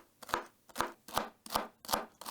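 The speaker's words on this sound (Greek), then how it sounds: "Πρώτα θα ψιλοκόψω το σέλερι" A knife finely chopping celery on a board makes six crisp, evenly spaced cuts about every 0.4 seconds, close and quiet, with nothing else heard.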